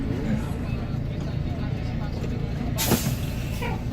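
A bus engine labours up the Gentong hill climb, a low steady drone heard from inside the cabin, with a sharp hissing air-brake burst near the end.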